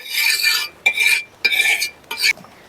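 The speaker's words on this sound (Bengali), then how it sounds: "তাওয়াতে প্রথমে একটু তেল দিয়ে দেব, অল্প তেলই দেব। আর এই যে খুন্তির সাহায্যে ছড়ে দেব।" A spatula spreading a little oil across a hot tawa griddle in four quick scraping strokes, each a bright, close metallic swipe separated by short pauses.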